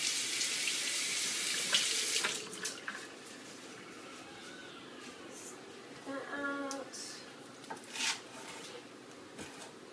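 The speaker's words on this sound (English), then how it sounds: "Make sure you wash it for sure" Fresh cilantro being washed under a running kitchen faucet, water splashing steadily into the sink at first and then thinning to trickles and drips, with a voice talking in between.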